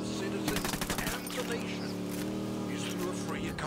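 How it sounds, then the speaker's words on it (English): Gunfire and grenade blasts in the tactical shooter Ghost Recon Wildlands: rapid close bursts of shots over a sustained engine-like drone, with a voice talking through it. "That was a grenade."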